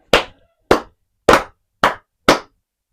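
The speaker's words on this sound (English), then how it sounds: "Clap it up." Five sharp hand claps spaced about half a second apart, close and loud, each standing alone against silence on a sports podcast.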